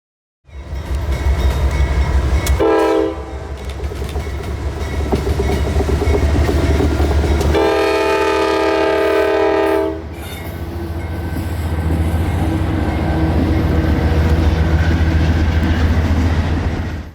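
A CSX freight train rumbling past in Florida trackside, loud and near, with two long horn blasts, one brief early and one sustained in the middle, over a continuous heavy roll of wheels.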